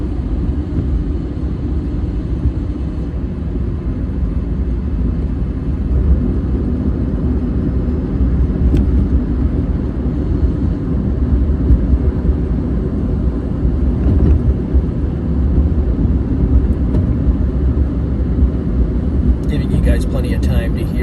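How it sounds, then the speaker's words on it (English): Steady low road and tire rumble inside a moving Electra Meccanica SOLO electric car, a continuous even drone throughout with no engine note and no talking. "Plenty of time to hear the road noise or the vehicle."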